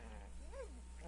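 Geronimo, a Chesapeake Bay Retriever in Red Dead, gives a single short whine that rises and falls over a low steady hum of background noise, faint and near.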